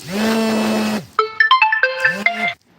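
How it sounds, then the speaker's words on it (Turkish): A mobile phone rings loudly and close with an incoming call, a sustained electronic tone followed by a quick run of melodic beeps, with no talk over it. "Ergün Beste abim arıyor"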